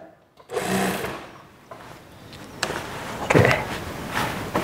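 Sewing machine stitching elastic-waist shorts in a tailoring workshop, a few short bursts of whirring motor with clacks and fabric handling in between, close and fairly quiet.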